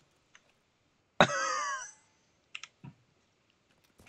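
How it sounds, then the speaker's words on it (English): A single short, harsh cough rings out up close in a quiet room during Battlebit Remastered online play, followed by a few faint clicks and soft knocks. "The cough was not needed, but it was added."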